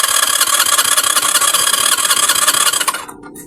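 A small gasoline engine cranks and runs with a rapid, loud rattling chug for about three seconds, then abruptly cuts out, leaving faint background noise.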